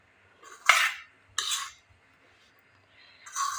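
Rice flour laddu dough being mixed in a bowl, a few separate scraping, clinking strokes of a utensil against the dish with short pauses between them.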